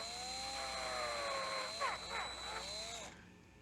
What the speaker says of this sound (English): I'm not going to hurt myself drilling this out